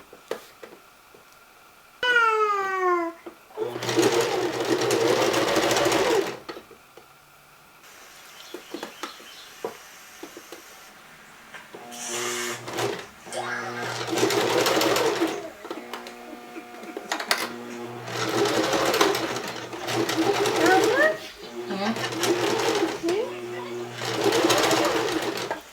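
A sewing machine stitches a thrifted dress in several bursts of fast, whirring stitching separated by short pauses and handling noises, with a few quick high chirps early on and voices briefly in the gaps.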